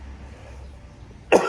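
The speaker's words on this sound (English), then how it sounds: "pardon the cough" A single short cough from a man with sinus trouble, close and fairly loud, bursting out near the end after low room hum.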